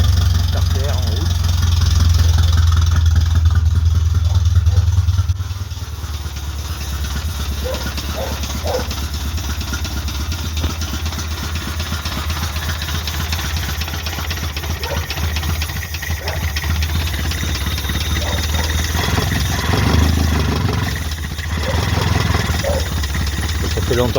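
A Talbot Horizon 1.1 car engine runs continuously with the choke on, close and loud, with a brief surge early on before it settles into a steady rumble. Someone talks over it at times.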